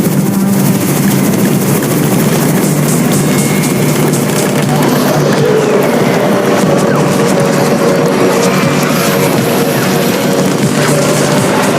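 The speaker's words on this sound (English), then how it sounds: "It's the Raven's chopper!" In the zombie survival game Undawn, the Raven faction's helicopter approaches with a loud, continuous rotor and heavy engine drone, steady and close throughout.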